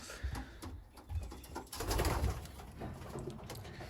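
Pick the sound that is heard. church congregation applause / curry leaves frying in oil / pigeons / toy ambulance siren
pigeons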